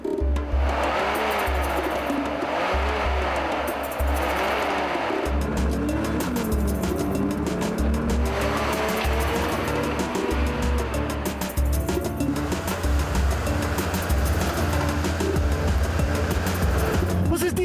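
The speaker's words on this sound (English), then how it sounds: "Anton tries to scare the obstacle into submission by revving the Merc's Big 6 engine as hard as he" A petrol Mercedes G-Wagon's big six-cylinder engine revs hard off-road at an obstacle, loud repeated rising and falling engine roars with wheel noise and talk over it.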